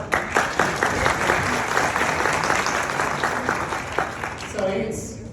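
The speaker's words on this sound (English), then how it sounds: "Please, one round of applause." An audience at a tech talk on engineering culture gives a round of applause, dense steady clapping that fills the room and fades near the end.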